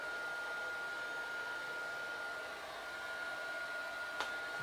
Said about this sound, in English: I'm just going to give them a quick blast with the heat gun just to get them dry